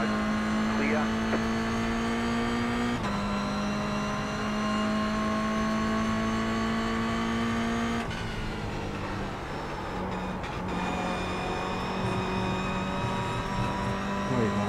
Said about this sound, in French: Là, c'était le moteur.